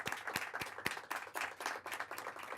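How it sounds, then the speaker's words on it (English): An audience at a 2016 candidates forum applauds, with sharp individual claps standing out from a thin, scattered round of clapping that lasts a couple of seconds. "Let's give them a round of applause."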